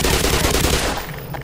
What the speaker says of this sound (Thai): เฮ้ยกูได้ยินเสียง50แคล